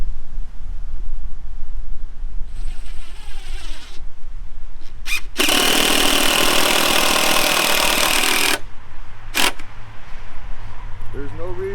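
A power drill drives 2.5-inch decking screws into a wooden deck frame in a loud burst lasting a few seconds, with brief shorter whirs before and after and someone talking in the background.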